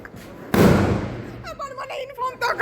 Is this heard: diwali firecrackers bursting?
yes